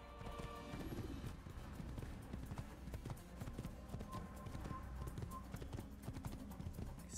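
A horse's hooves clip-clop in a steady trotting rhythm with a neigh in the Assassin's Creed video game, the hoofbeats close and continuous.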